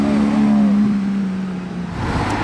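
A Ferrari F430 sports car engine drones close by, its tone sliding lower as it drives past, fairly loud against faint background noise.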